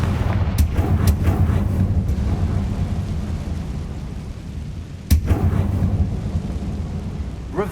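A Confringo fire blast spell from the video game Hogwarts Legacy goes off in sharp, booming bursts. Several cracks come close together early, then a lull with a rumbling low background, then one more heavy blast with crackling decay.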